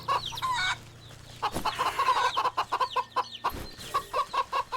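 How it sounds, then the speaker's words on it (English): Chickens cluck in the video game Wytchwood, a rapid rhythmic run of close clucks over a low game ambience, with a brief squawk early on. "So do I just poke at the chickens?"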